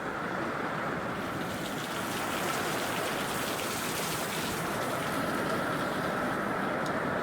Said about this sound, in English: Rain's coming down so bad.